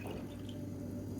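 About 200 ml of water poured into a saucepan for a home recipe, a brief steady splashing rush of liquid heard close up.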